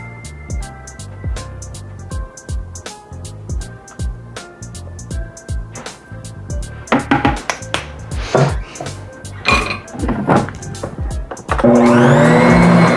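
An electric mixer beats chocolate chip cookie dough with vanilla in quick rhythmic pulses, then breaks into a loud continuous whir at the close.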